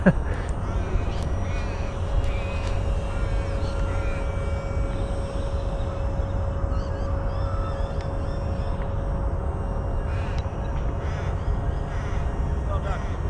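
A Mark IV radio-controlled model plane based on the Canberra bomber flies under motor power at about three-quarter throttle, holding a steady, droning whine throughout. Outdoor background noise runs underneath, with faint voices and bird calls.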